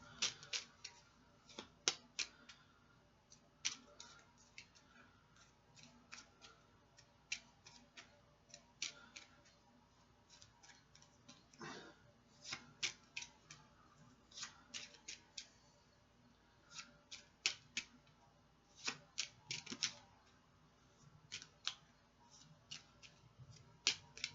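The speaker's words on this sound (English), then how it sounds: "I'm going to shuffle a superstar deck because I'm required to do that every" Stiff wrestling game cards from a superstar deck being shuffled by hand, a long run of sharp, crisp riffling snaps and clicks in irregular bursts, close and fairly quiet, with no talking.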